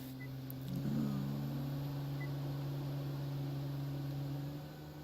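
A car engine runs steadily on a dyno, a constant humming drone with a brief rise in pitch early on, then holding level before easing off near the end.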